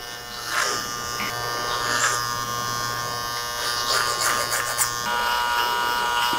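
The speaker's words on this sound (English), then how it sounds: "Blend them down using the trimmer." An electric hair trimmer buzzes steadily and close while blending sideburns down around the ears, its hum shifting slightly as it moves against the hair, with no talking.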